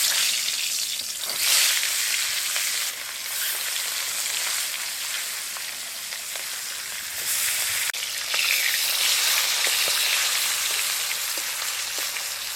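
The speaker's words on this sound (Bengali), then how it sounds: "এবার মাছগুলো ভেজে নেব।" Fish pieces rubbed with salt and turmeric frying in mustard oil in a wok, a loud, continuous hiss and sizzle that swells and eases in waves, close up with no talking.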